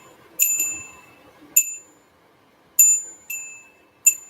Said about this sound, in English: We got a different bell today